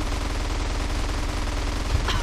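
Gunfire in GTA San Andreas, a dense, continuous stream of rapid shots with no pauses, steady and loud across the whole stretch with one sharper burst near the end.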